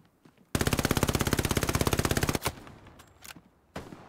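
Machine-gun fire in the video game Hell Let Loose, during a simulation event: a loud, rapid, evenly spaced burst lasting about two seconds, then quieter battlefield background with a few distant thuds.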